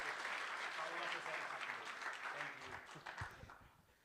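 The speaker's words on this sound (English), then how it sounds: "So one more round of applause for everyone." Audience at a conference keynote clapping, a dense burst of applause that fades gradually toward the end, heard from within the room.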